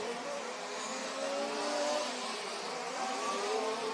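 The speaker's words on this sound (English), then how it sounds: "We have one engine out there that sounds just very slightly different." A nitro RC model race car engine screams at a sustained high pitch at a European championship race, its whine wavering slightly as it holds revs from a moderate distance, without talk.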